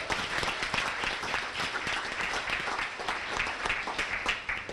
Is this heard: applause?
yes